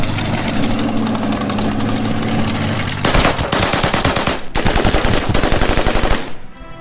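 Rapid gunfire bursts from the Order of Battle: Burma Road war strategy game rattle loudly, first a dense rumbling stretch then sharp repeated volleys in quick succession, no speech.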